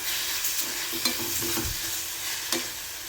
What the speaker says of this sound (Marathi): 1 मिनिट अजून परतून घेऊ